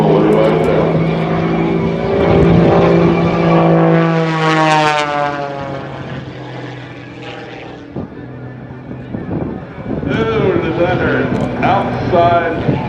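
A Gary Ward MX-2 aerobatic airplane roars loudly past at an air show, its propeller engine note sweeping up and down in pitch as it maneuvers, with an announcer talking over it.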